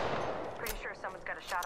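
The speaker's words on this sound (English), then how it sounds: "Pretty sure someone's got a shot on me." Gunfire in the video game Apex Legends cracks out in a few short bursts, with a player's voice talking over the shots.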